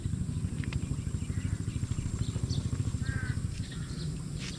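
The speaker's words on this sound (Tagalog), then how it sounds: "Yan ang delikado uwak." A crow caws a few times at a distance while duck eggs are gathered, over a steady low engine rumble and faint background noise.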